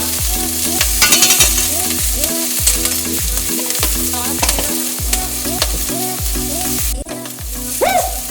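Vegan burger patties fry in hot coconut oil with a loud, steady sizzle and rapid popping crackles, plus a repeating scrape of a spatula across the pan throughout.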